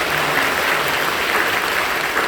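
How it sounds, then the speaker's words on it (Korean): Sustained, even applause fills a large church sanctuary as the congregation claps together, loud and continuous throughout, with no speech over it. "박수를 경배해 주십시오."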